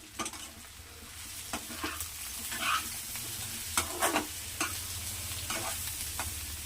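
Spices, salt, chili powder and coriander powder are stirred into a sizzling pan of pesula guggilu, steady frying hiss under repeated scraping spoon strokes, close and continuous with no talking.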